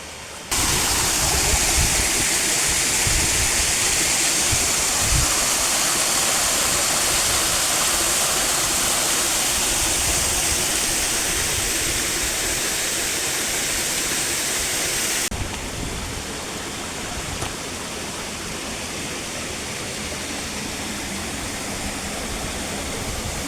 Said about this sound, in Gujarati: અવાજ આવે એ ઝરણું આપણે જોવા જવાનું છે